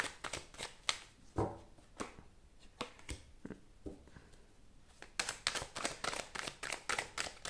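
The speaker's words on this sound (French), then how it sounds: "on va prendre juste 2-3 cartes" Tarot cards are drawn and handled from a deck, giving a run of crisp close flicks and slaps, sparse at first and then a quicker burst of riffling toward the end.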